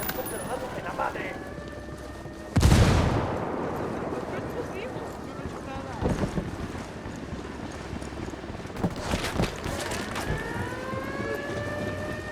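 A grenade blast in Ghost Recon Wildlands, a single loud burst that erupts suddenly and booms through the lows, then rumbles and fades amid ongoing game noise with voices talking around it.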